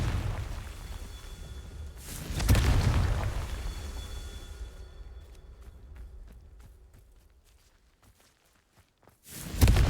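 Confringo blasting spells in Hogwarts Legacy: a couple of deep booming explosions, one strong burst early and another sharp blast at the very end, separated by a fading rumble and light scattered footsteps.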